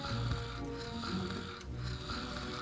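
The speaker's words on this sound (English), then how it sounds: "Who the hell's snoring around here?" Snoring from a person asleep in a bed in the Fable video game, a steady, moderately loud rasp running continuously with mechanical, ratchet-like texture and no talk over it.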